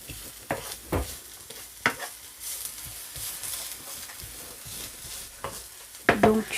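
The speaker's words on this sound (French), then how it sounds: "j'ai mis mon oignon pour les faire revenir" Onions sizzle and fry in a pan, a steady crackling hiss with occasional louder stirring clatters, close and without talk.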